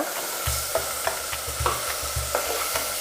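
Tomato and chopped beans sauté in oil for masala rice, with a steady sizzle broken by a regular series of stirring scrapes and taps from a spoon in the pan, close and loud, with no voices.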